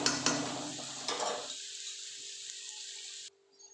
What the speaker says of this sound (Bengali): একটু পেঁয়াজটা ভাজা ভাজা হয়ে যায়